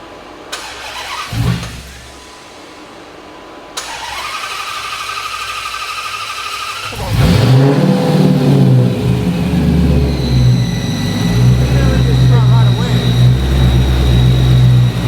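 A Hellcat-powered Magnum car, with a noise coming from underneath, cranks over after a couple of tries, fires up and revs loud and close, then settles into a rumbling run while people talk nearby.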